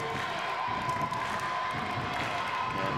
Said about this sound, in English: the cheering getting a little bit louder for the Milford fans